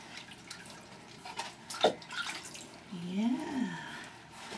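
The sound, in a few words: splashing water in a bath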